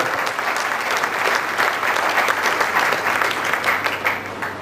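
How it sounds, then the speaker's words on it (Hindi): Loud, dense audience applause at a party gathering, sustained evenly through the whole stretch with many hands clapping close by. "आप अपने शान में जोरदार तालियां बजाने का।"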